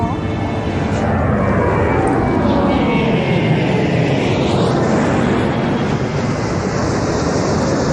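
An airplane roars steadily and loudly throughout, with a broad engine rumble and a rising and falling whine sweeping across the sound, close and unbroken for the full length.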